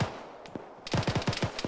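Gunfire in the military video game ShackTac: a few scattered shots, then a rapid burst of sharp rifle reports in quick succession, fairly close and crisp, with no talking over it.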